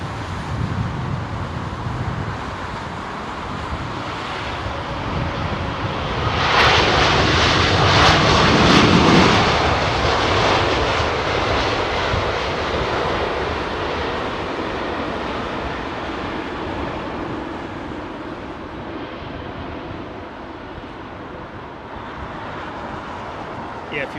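Thai Airways Boeing 777-300ER departing Heathrow runway 27R, a broad jet engine roar swelling to a loud peak and then fading slowly as the aircraft climbs away, with faint road traffic beneath.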